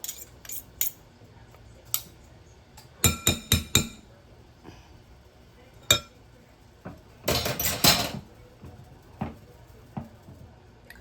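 A spoon scoops salmon patty mixture from a bowl in a home kitchen, making scattered clinks and scrapes, some single and some in quick clusters, close by with quiet gaps between them.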